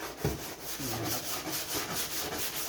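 Hand wet sanding with abrasive paper, a steady broadband rubbing that stays loud and continuous, with faint rhythmic strokes and no talk.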